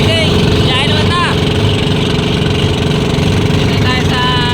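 A new wooden bangka's engine drones loud and steady at the start of a trip toward Talingki, a continuous close rumble with no breaks, while voices talk over it in brief bursts.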